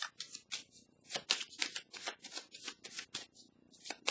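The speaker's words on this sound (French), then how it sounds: "Je vais piger une carte ici pour déposer dans cette zone." Close, crisp riffling and flicking of a tarot deck as a card is drawn, a rapid run of papery snaps with short pauses, alone without talk.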